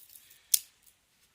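Small scissors on a Leatherman Squirt PS4 multitool snip once, a single crisp close cut in otherwise quiet surroundings with a faint click after.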